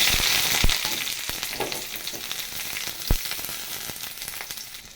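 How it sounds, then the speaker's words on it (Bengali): Onions sizzle and crackle steadily in hot oil, with a few sharp pops and spatters, fairly close and without any voices. "পেঁয়াজ ভাজা হয়ে গেছে"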